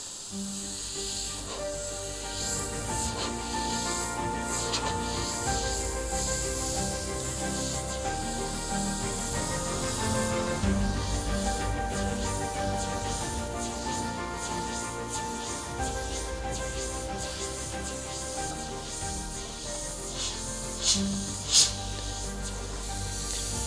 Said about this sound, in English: it's just a really nice, comfortable airbrush to use with a super smooth trigger